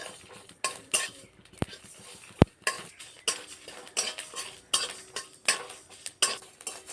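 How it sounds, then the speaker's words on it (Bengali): Panch phoron spices are dry-roasted in a pan for a tangy-sweet jujube pickle, with a metal spoon repeatedly scraping and clinking against the pan in an uneven rhythm and a few sharp knocks, close and clear. "পাঁচ ফোড়নটা ভেজে নেব"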